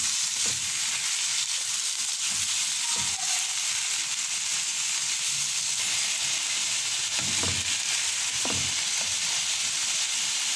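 Pork pochero frying and being stirred in a pan, a steady loud sizzle throughout, broken by a few soft scraping strokes of the spoon, with no voices.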